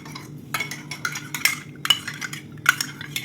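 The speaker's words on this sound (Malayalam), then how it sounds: "ചേർത്തിട്ട് നന്നായിട്ടൊന്ന് ഇളക്കി യോജിപ്പിച്ചെടുക്കാം." A spoon stirs a custard powder mixture in a bowl, clinking and scraping against the sides in quick irregular strokes, close and fairly faint over a low background hum.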